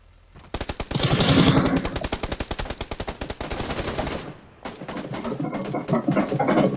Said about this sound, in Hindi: कोई AKM ना AWM चला रहा है